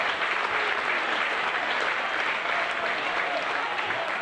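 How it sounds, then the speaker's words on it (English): Sustained crowd applause at an England U18 versus Wales U18 football match, a dense, steady clapping from many spectators in the stands, evenly loud for several seconds with a commentator talking faintly underneath. "And good applause there."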